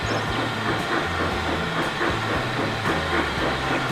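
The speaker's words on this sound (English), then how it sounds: "Come on, train." A train rolls steadily through a Transport Fever 2 game world with UK mods, giving a continuous rumble and a soft hiss, repeated low clicks, and a faint rhythmic clatter throughout.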